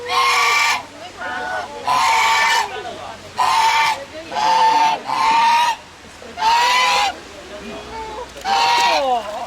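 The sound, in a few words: geese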